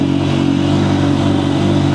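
A motorcycle engine labours steadily up a steep, elevated road on Camotes Island in Cebu, a continuous loud mid-pitched drone with clattering texture and no talk.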